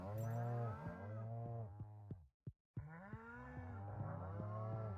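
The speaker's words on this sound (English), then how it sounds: "Hello, cows." Cows moo loudly in a farming video game, a long low call repeated with a deep harmonic drone, broken by a brief silence midway before the lowing resumes.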